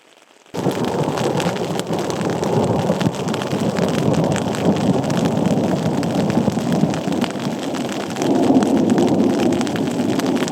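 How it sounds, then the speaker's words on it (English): A spring thunderstorm in the Adirondack backcountry brings heavy, steady rain drumming close by, with a low continuous rumble of thunder underneath that swells again near the end. "we both heard the unmistakable rumble of thunder in the distance"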